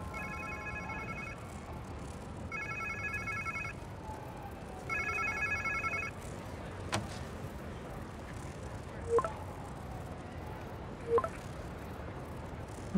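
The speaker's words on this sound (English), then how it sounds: "Sounds like somebody's phone." Repeated electronic phone ringtone chirps in bursts from the video game Marvel's Spider-Man 2, three ringing patterns close together, then a few faint clicks and pings in quiet game ambience.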